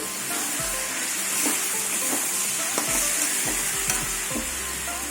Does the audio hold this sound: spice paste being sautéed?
yes